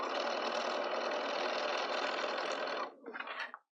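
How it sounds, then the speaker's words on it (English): A sewing machine runs in one steady, continuous buzz for nearly three seconds, stitching all the way around a fabric market bag, then slows and stutters briefly before stopping, close and unaccompanied. "I'm going to sew all the way around."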